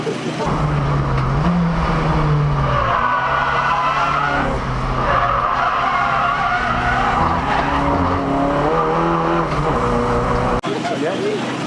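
A car sliding around the race track at Castle Combe during Performance German Day 2019, with a loud, sustained engine roar and tyre scrub heard up close from a sidecar-style seat, running steadily throughout.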